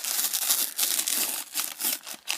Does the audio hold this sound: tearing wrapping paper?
yes